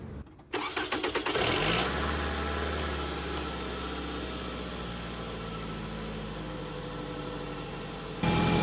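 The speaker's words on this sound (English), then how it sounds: "you want to start your engine and turn your heat on all the way" A 2005 Toyota Camry's 2AZ-FE four-cylinder engine cranks briefly, catches and then settles into a steady, even idle. The engine sounds close and clear, with a short burst of louder noise near the end.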